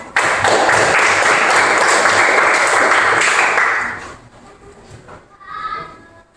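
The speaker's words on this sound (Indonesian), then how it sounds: "Tepuk tangan." A class of fifth-grade pupils bursts into loud, dense applause for about four seconds, then it fades out and a few faint voices and a brief tone follow.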